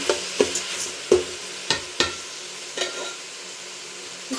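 Salted mixed vegetables fry in a pan for a vegetable pulao, with a steady moderate sizzle and a series of sharp spoon scrapes and knocks as they are stirred, with no talking.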